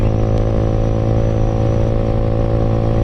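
A Bajaj Pulsar NS200 motorcycle engine drones continuously while riding on a long highway trip, with a loud, close, steady hum and constant rumble and no pauses.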